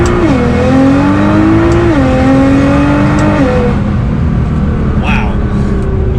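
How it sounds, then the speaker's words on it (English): A Nissan GT-R pulls hard from first gear with a loud, close engine drone rising in pitch, stepping down at quick upshifts before climbing again, with a voice heard over it. "As far as the feeling of acceleration you get in this car from first gear"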